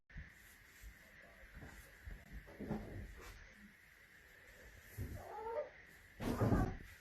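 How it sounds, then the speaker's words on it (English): Cats fighting outdoors in the early morning, with a strained yowl and short caterwauling cries in bursts over a steady background hum, the loudest outburst near the end; moderately close. "these cats are beefing at 7 a.m."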